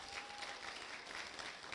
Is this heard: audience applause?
yes